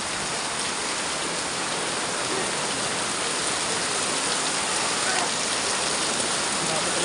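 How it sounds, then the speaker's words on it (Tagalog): Heavy downpour during a typhoon drums steadily as a dense, unbroken roar of rain on surfaces, loud and even with no letup. "Grabe talaga lakas ng ulan."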